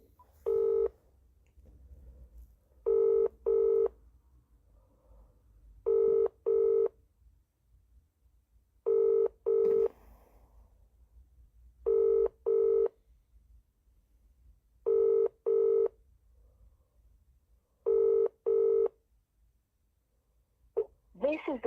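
A mobile phone call rings out on a UK line, with paired ringback tones repeating every three seconds, steady and clear over a quiet line, ending as a voice begins.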